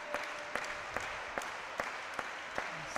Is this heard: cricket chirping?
no